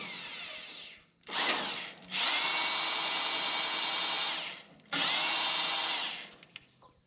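A handheld drill spins the crank of a Woodland Mills HM130 Max sawmill, whining in long steady runs separated by brief pauses, with the pitch shifting slightly as it winds up and down.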